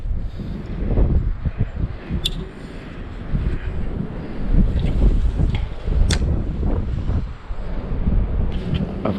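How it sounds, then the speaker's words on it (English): Wind blows steadily by a winter creek, a broad low rumble and buffeting against the microphone that rises and falls in gusts throughout, with a few faint brief clicks. "it also kind of protects you from the wind just a little bit"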